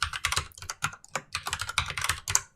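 Rapid, uneven keystrokes clatter on a computer keyboard as a password is typed. The clicks are close and continuous, with brief pauses between bursts and no voice.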